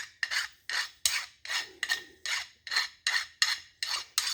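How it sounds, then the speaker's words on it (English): Edges of a Chevy 350 connecting rod being broken with a file: about a dozen rhythmic rasping strokes, close and clear, each a short bright scrape separated by brief pauses. "Breaking the edges off the rod."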